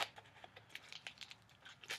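Cheap scissors cutting open mailed packaging, a run of quiet snips, crinkles and tearing rustles in short irregular bursts, close and soft.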